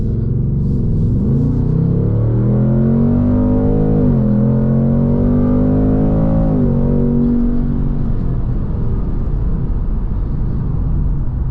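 A 2024 Ford Mustang GT V8 in normal drive mode revving hard as it accelerates on a bumpy road, its loud, close engine note climbing steadily through the gears with brief dips at each shift, then settling into a steady rumble.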